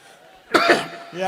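A single sharp cough up close from a performer at a Hindi comedy poetry show, preceded by quiet background sound and followed by a short vocal sound.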